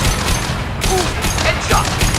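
Rifle gunfire in the video game Mass Effect 2, a few sharp bursts across two seconds over a dense game soundscape, with a voice talking at times.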